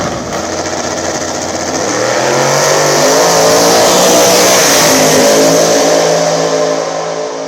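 Nitrous-fed drag race cars on a small-tire no-prep track roar past, a loud, sustained engine howl that swells and shifts pitch as they accelerate down the strip.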